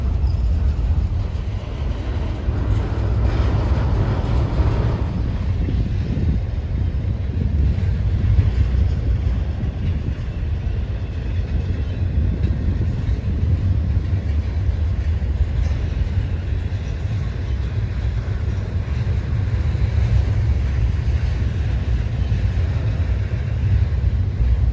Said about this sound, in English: That SD70 ACE is doing it all by himself, and this was a huge train.